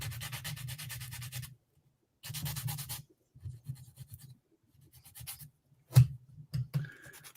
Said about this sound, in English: So I'm just going to do some cleanup filing on this.